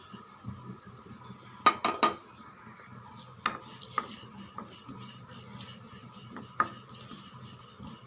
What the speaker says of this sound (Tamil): இதை அப்படியே நல்லா பொன்னிறமாக வறுத்து எடுத்துடலாம்.